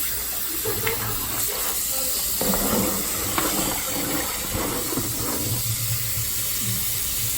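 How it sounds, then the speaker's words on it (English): Tap water runs steadily into a sink while chicken breast is rinsed, a continuous close splashing wash with faint handling knocks and clatter, no talking. "So this is my last rinse."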